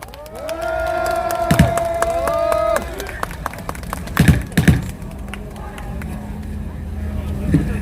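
A crowd of self-employed business owners at a Gwanghwamun protest rally in Seoul cheers and claps in bursts. Voices mix in, along with a sustained horn-like tone early on, fairly near and loud.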